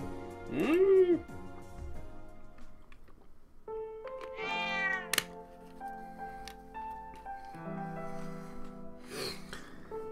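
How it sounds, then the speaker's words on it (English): A cat meowing in the video game Trails of Cold Steel II, a loud, close, drawn-out meow near the start and another rising meow midway, with game music and sound effects throughout. "Cat noise."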